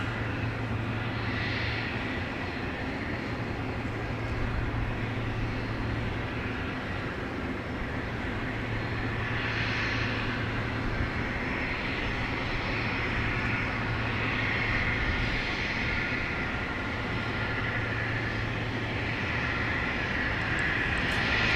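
Boeing 717 jet airliner, a DC-9 descendant, at Dallas Love Field, its engines producing a steady, loud roar with a constant low hum throughout, and no talk.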